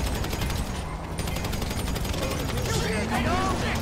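Rapid, continuous gunfire at police in Grand Theft Auto V outside an Ammu-Nation shop, a steady rattling stream of shots at moderate volume with game voices talking over it.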